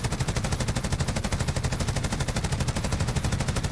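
Rapid, steady automatic gunfire from a prone player in the video game Call of Duty Warzone, continuous and loud for the whole stretch with an even rhythmic pulse and no talking.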